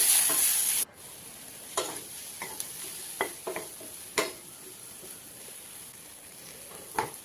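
Okra (lady's finger) fries in a pan with salt, turmeric and chili, a steady close sizzle broken by several light scrapes and taps of a spatula stirring, with a louder hiss at the start.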